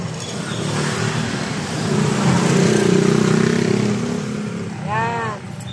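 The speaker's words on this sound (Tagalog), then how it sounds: "Tricycle, guys." A motorcycle with a sidecar, a tricycle, drives past on a busy road, its mid-pitched engine swelling to a peak and then fading, with voices talking nearby and a short horn-like tone near the end.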